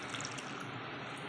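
Water pours steadily into peanut (palli putnala) chutney for idli, a brief, close, even splashing rush with no voices.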